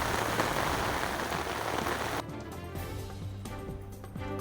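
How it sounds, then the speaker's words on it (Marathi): Heavy rain pouring down in Palghar district, a dense wash of rainfall that cuts abruptly to quieter dripping rain on a surface, with faint tonal sounds underneath and no speech. "पालघर जिल्ह्यात मध्यरात्रीपासून सर्वत्र दमदार पावसाची हजेरी"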